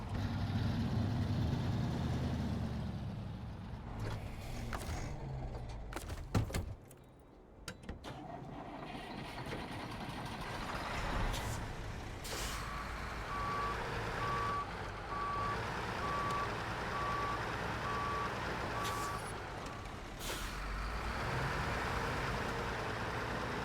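Truck in a truck driving game backing up to park, its reversing alarm beeping steadily at a regular pace over a low idling engine rumble, fairly faint throughout.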